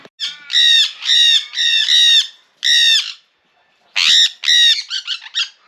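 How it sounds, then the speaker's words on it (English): Loud, harsh squawks from several sulphur-crested cockatoos in Hyden, Australia, coming in raucous bursts close by, with a short pause before another burst of screeching calls. "A lot of squawking cockies."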